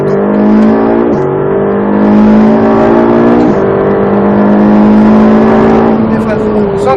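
A Ferrari 458 Italia's engine roars loud and close on a race track at Croix-en-Ternois, its pitch climbing hard then dropping briefly at each upshift before rising again.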